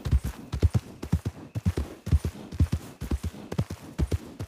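A horse's hooves clip-clop in a quick, steady rhythm on a hard surface, close and distinct, with no talking.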